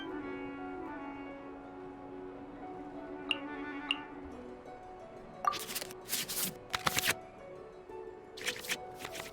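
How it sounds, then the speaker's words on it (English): Cards are shuffled back into the draw pile in Genshin Impact's digital card game, with a couple of faint ticks followed by several short, bright swishing flicks over a soft musical background. "we can select any number of cards in our hand to shuffle back into the draw pile"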